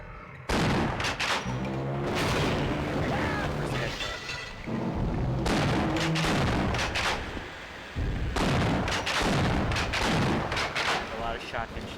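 Shotgun blasts from the PS2 version of Half-Life, heavy booming shots in bursts separated by short pauses, loud and close, with game sound effects between.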